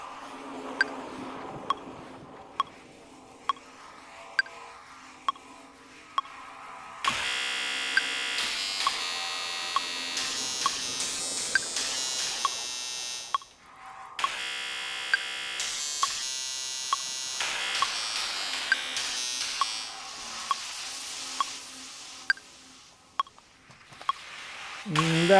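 Synthesizer sequence played in Ableton, a buzzy electronic tone stepping through a repeating pattern with ticking metronome-like clicks, swelling louder and brighter midway, occasional pauses, faint and alone.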